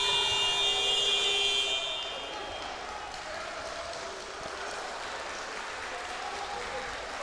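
At a high school boys' basketball game between CI Gibson and CR Walker, a loud, sustained electronic buzzer blares for almost two seconds and then cuts off, leaving crowd noise and a commentator talking.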